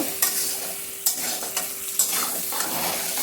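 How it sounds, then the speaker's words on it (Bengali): Squash and soybean chunks frying in oil in a pan, with a steady sizzle and a spoon scraping and stirring at regular intervals, close and alone. "স্কোয়াশগুলি চার পাঁচ মিনিট ভাজার পর আমি সঙ্গে একবারে সয়াবিনটাও দিয়ে দেব"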